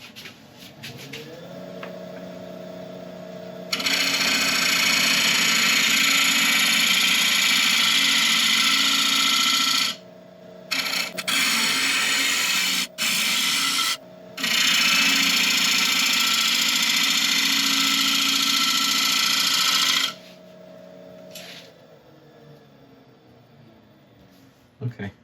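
A wood lathe spins as a carbide turning tool cuts the workpiece, giving a loud sustained hiss of cutting over a steady motor hum, with brief pauses between passes and quieter motor running at start and end.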